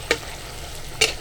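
Dhakai paratha frying in oil in a pan, two short sizzling bursts as the dough is stirred or turned, set apart by a quieter low hiss in between.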